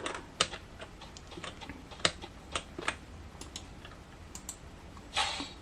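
Computer keyboard keys tapped while setting up keyboard-and-mouse controls for a mobile phone game: sparse, irregular clicks at close range, a few sharper presses and a short cluster near the end, with no talking.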